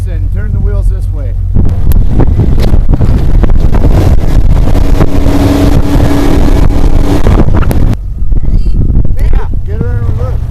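A stuck car's engine roars loudly as it revs in reverse while the driver tries to regain traction. The strain holds steady for several seconds over strong wind buffeting, with people talking before and after the push.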